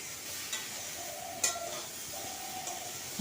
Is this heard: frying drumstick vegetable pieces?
yes